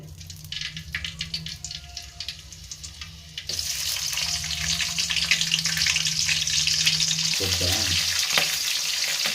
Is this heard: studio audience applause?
no